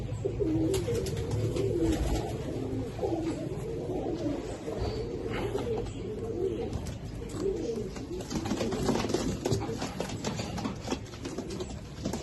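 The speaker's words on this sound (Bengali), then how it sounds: "এই হচ্ছে তোমার 3 পেয়ার কবুতর" High-flying pigeons cooing steadily and close by, several birds overlapping in soft, continuous throaty coos over a constant background hum.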